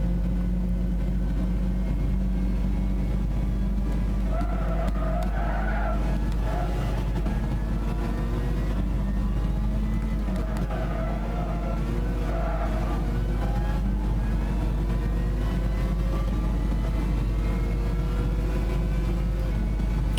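A race car engine drones steadily while driving in Gran Turismo 6, a continuous close hum with gentle rises and falls in pitch as the car accelerates and eases off.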